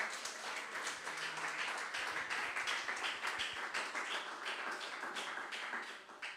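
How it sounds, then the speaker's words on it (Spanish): A church congregation applauds during a sermon, a dense, distant wash of clapping that keeps a steady level, faint and reverberant throughout with no clear talk on top. "Regálele fuerte esa ofrenda de aplauso al Señor."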